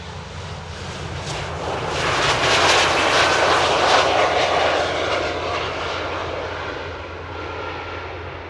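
A heavy airliner rolls down the runway and lifts off at Amsterdam Airport, its engine roar swelling into a loud, broad rumble midway and then easing slightly as it climbs, with faint wind buffeting throughout.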